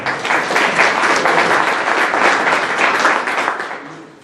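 An audience at a book presentation applauds, a dense burst of loud clapping that holds steady for a few seconds and then begins to fade toward the end.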